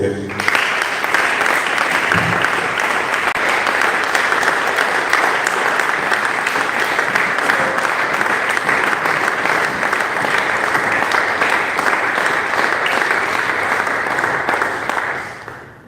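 A church congregation bursts into sustained, loud applause, steady clapping that fills the room for about fifteen seconds and then fades out.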